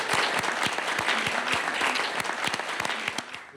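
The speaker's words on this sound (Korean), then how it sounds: "여러분 큰 박수 부탁드리겠습니다" Enthusiastic applause from a forum audience as the chairperson is welcomed to the stage, dense rapid clapping filling the space steadily and fading slightly at the end.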